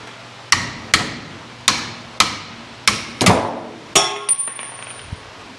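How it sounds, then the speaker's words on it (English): A hammer taps a socket off a transmission component in a car repair with no low gear: about seven sharp, ringing metallic strikes, evenly spaced and close, with a short cluster of lighter taps near the end. "Now I will have to tap that off with a hammer"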